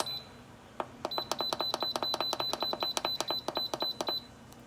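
An Instant Pot electric pressure cooker gives a rapid series of sharp electronic beeps, about twenty in a row in a quick even rhythm, close and clear over a quiet background.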